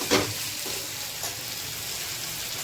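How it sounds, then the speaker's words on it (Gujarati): Potato bhaji with ginger paste, coriander-cumin powder and spices is stirred and sautéed in a pan, giving a loud continuous sizzle with a clatter of stirring at the start. "હવે આપણે આને થોડું મિક્સ કરી લેશું"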